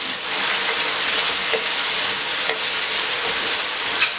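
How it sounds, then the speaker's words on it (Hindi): Onions fry in ghee over high heat with a loud, dense, steady sizzle and occasional soft scrapes of a spoon being stirred through the pan, close up with no talking. "प्याज को आपने तेज़ आंच पे फ्राई करना है ताकि ये जल्दी फ्राई हो जाए"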